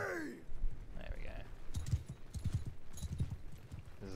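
Horse hooves clip-clopping in the medieval battle game Bannerlord, a soft irregular trotting rhythm mixed with faint battle noise and a breathy sigh, fairly quiet overall.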